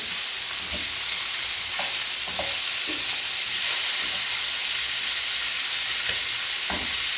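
Ribs frying in two frying pans of different sizes, a steady loud sizzle and hiss throughout with occasional soft clinks and scrapes.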